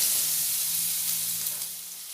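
Chopped onion and a little turmeric powder fry in hot oil, giving a bright, continuous close sizzle that eases slightly toward the end, with a faint low hum underneath.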